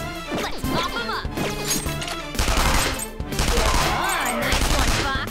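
Gunfire rings out during a battle in the video game Persona 5 as several sharp, loud bursts and impacts over game music and effects.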